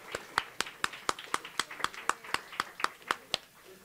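Sparse clapping from a small audience at a mobile clinic anniversary event, about a dozen sharp evenly spaced claps in a slow steady rhythm, fairly faint, with quiet voices underneath.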